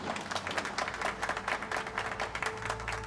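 Faint applause from a school audience: a thin, scattered patter of claps from a modest crowd, steady and subdued throughout.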